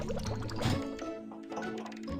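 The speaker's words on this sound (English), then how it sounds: "Pour engine fluid by color into tanks." Cartoon liquid pouring and gurgling as colored engine fluid fills tanks in a kids' truck and car repair game, a short close burst of watery sound over a bright music bed.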